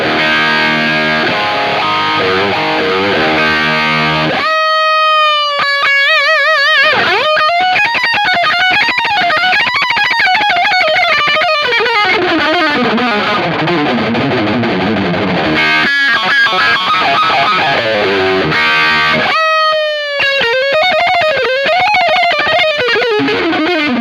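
A distorted electric guitar plays through an amplifier's channel B overdrive, aiming for a high-gain tone. Loud, continuous riffing with sustained notes and bends runs alone, broken by a few brief pauses.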